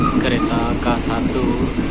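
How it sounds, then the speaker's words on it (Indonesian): Interior of a 2018 PT Inka K1 executive-class train car on a ride from Padang to Kayutanam, with a steady broadband rumble of the moving carriage throughout and a voice talking over it. "K1 kereta eksekutif tahun 2018 buatan PT Inka."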